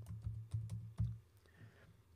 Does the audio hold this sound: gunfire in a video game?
no